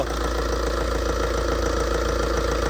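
A Tata diesel vehicle engine idling after starting, with a steady low rumbling drone and fine rhythmic knock, close and constant throughout.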